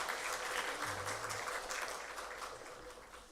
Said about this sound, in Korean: 우리 은혜로운 찬양해 주신 성가대원들에게 다시 한번 감사의 박수하겠습니다.